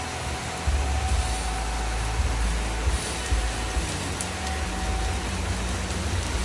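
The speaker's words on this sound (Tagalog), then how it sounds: "Malakas talagang ulan." Heavy rain falling in a farming province of La Union, a steady broadband wash of downpour on surfaces, close and continuous with no voices.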